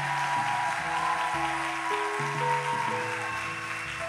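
Congregation applauding during a Catholic Mass homily, a continuous wash of clapping blended with sustained music notes, even and moderately distant.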